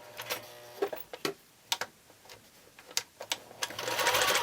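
A sewing machine runs in short bursts of rapid ticking while stitching quilt binding, with pauses and uneven clicks between runs and a longer steady whir at the end, close and fairly quiet with no talking.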